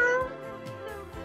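A person imitates the meow of a male cat with a short, voiced, cat-like call, close and fairly loud, with a few wavering pitched tones over about a second.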